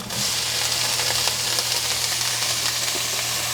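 Drained ground meat sizzles steadily in a skillet, a continuous close hiss and crackle with a low electrical hum beneath it throughout.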